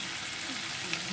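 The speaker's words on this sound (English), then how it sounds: "Just put the heat up, let that sizzle away." Onions frying in a hot pan for a curry give a steady, even sizzle that holds at one level throughout, with no talking over it.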